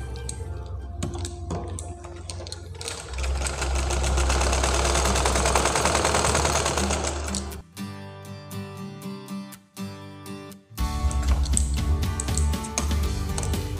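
A sewing machine runs stitches along the sleeve fabric of a simple blouse, close and loud in bursts of rapid chatter, with short stops and restarts between runs of stitching.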